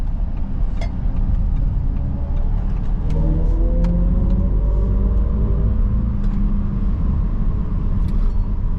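An Audi SQ6 e-tron electric car accelerates from inside the cabin, a steady low road rumble with a faint rising motor whine building over several seconds, with no talk.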